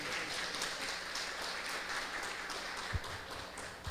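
Church congregation applauding after a prayer, a steady broadband wash of clapping that holds evenly throughout with a couple of sharper claps standing out near the end.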